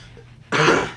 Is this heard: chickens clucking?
no